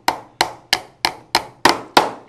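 Seven evenly spaced hammer taps drive a nail into wood while the arm of a throwing machine is assembled, each sharp knock close and loud with a quick decay.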